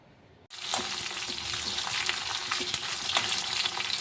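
Coriander leaves drop into hot oil for chicken biryani masala, bursting into a loud, steady sizzle and crackle with scattered pops after a brief quiet start; no one speaks.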